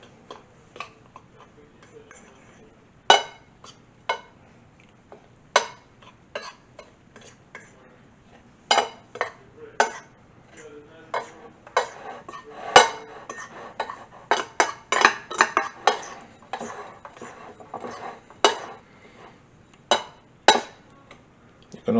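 A utensil clinks and taps against a bowl while thyme is mixed into chicken tender seasoning, irregular sharp ticks coming in quick clusters, close and fairly quiet over a low background.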